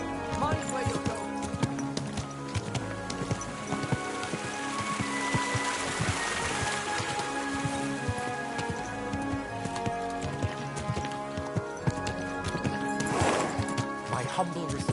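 Horse hooves clip-clop in a steady rhythm under rain and ambient game sounds in Kingdom Come: Deliverance II, with voices speaking over them.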